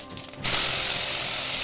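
Cumin seeds dropped with dried red chillies into hot oil in a kadai, bursting into a sudden loud, steady hiss after a brief quiet moment.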